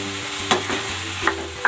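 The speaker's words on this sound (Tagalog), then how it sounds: "Ilalagay ko na rin dito itong patatas at ang carrots." Potato and carrot pieces drop into a sizzling frying pan, with steady frying hiss and a few sharp clatters as they land and get stirred.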